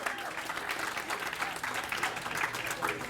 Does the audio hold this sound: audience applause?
yes